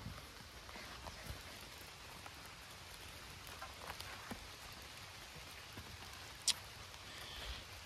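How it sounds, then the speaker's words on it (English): Rain falls steadily in woodland, a soft, continuous patter of drops on surfaces with one brief sharper tap standing out. "And it's raining."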